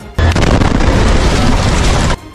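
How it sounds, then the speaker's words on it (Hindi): An Israeli airstrike's bomb blast erupts as a loud, booming roar that lasts about two seconds before cutting off, with no voices. "जिसमें एक के बाद एक कई तेज धमाके होते दिखाई दिए"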